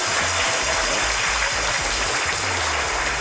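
Applause congratulating an award winner at a business awards event, broad steady clapping that holds at an even level for the whole span, with no voices over it.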